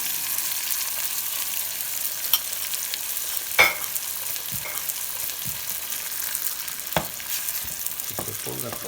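Eggs, shells removed, frying in a hot pan for a Greek omelette, giving a steady close sizzle broken by a few sharp clicks and scrapes of a utensil against the pan.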